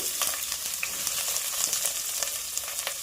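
Chopped onions hit hot oil with spluttered mustard seeds for an okra stir-fry, giving a close, steady sizzle with scattered sharp pops and crackles throughout.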